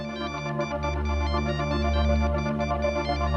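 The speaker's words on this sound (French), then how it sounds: "son téléphone se met à sonner" Telephone ringtone: a loud, continuous melodic electronic ring with steady tones, heard alone without talking.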